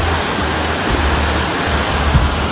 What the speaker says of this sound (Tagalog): yung sinasabi nilang Love Waterfall